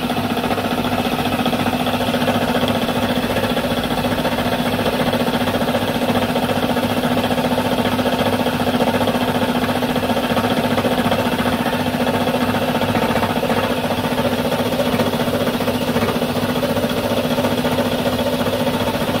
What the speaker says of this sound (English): so then I just cut the keyway in the plastic there